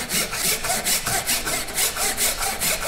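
A hand saw makes short, steady strokes across wood while cutting a cross halving joint, a rhythmic rasping back and forth, close and loud, with no talk.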